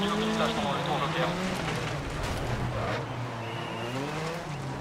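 Rally car engine revs and whines while tires skid on loose surface in the racing game DiRT Rally, a steady loud gear-shifting roar with rising and falling pitch, a voice talking over it.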